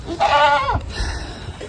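A goat on a farm bleats once, loud and close, a wavering nasal cry that drops into a short grunt, followed by faint farmyard background.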